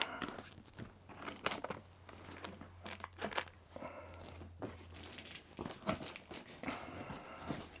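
Scissors snip and slice through packing tape and cardboard on a hammock's shipping box, a run of close, sharp crunching cuts with brief pauses, over a steady low hum.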